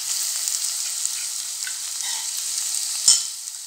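Ginger garlic paste frying with onions in a pressure cooker for pepper chicken gravy, giving a close, continuous hiss with a single sharp clink of a spoon near the end.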